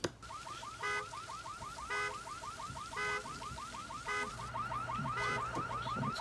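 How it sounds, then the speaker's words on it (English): A car alarm wails in a repeating cycle, warbling tones pulsing about once a second with a low hum underneath, heard from some distance. "So this car alarm's gone off."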